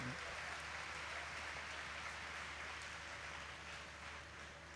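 Applause from a large gathering at a religious discourse at Vadtal Dham, a faint, distant, even wash of clapping sustained throughout over a low steady hum.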